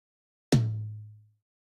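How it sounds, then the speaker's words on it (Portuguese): A single triggered tom 1 drum hit from a mix, one sharp attack followed by a deep, ringing low tone that fades smoothly over under a second, isolated in silence. "esse é o som do trigger do tom 1"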